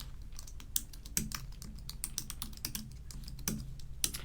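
Someone types a website address on a computer keyboard with quick, irregular clicking keystrokes and a few heavier taps, close and clear against quiet background.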